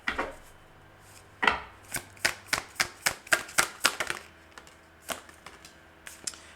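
Tarot cards are shuffled by hand in quick, irregular bursts of crisp slaps and riffles, close and fairly quiet, with short pauses between clusters and no talking.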